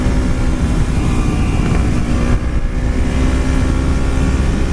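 Motorcycle engine pulling hard as the rider rolls on the throttle along a twisty road, a loud steady drone with rushing wind, close and continuous without pause.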